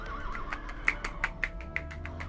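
A horse whinnies in the Roblox game Brookhaven, a bright, wavering neigh followed by a run of rhythmic, evenly spaced higher pulses over a steady low background.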